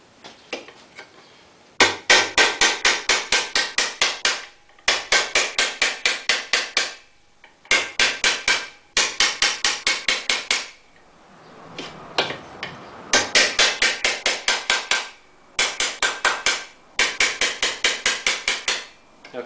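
A hammer pounds a sheet metal car fender panel in rapid, evenly spaced bursts of ringing metallic blows, close and loud, separated by short pauses.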